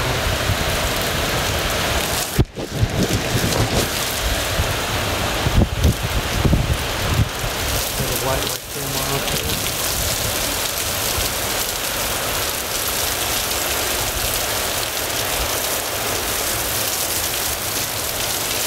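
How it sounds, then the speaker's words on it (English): Heavy monsoon rain pours steadily during a storm in Scottsdale, Arizona, a dense continuous roar of rainfall with some wind noise throughout; no distinct thunderclap stands out. "Heaviest rain I've seen here all monsoon season for sure."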